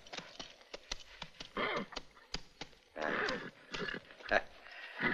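A horse whinnies and snorts amid scattered hoof clops and rustling, fairly close, with brief bursts of sound separated by quieter gaps.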